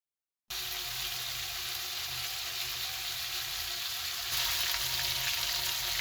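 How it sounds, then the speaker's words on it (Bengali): Chicken pieces fry in hot oil in a pan, one batch after another, giving a steady close sizzle that swells a little louder near the end, with no one talking. "এখন একে একে ২-৩ ব্যাচ করে আমি চিকেনগুলো ভেজে নিব।"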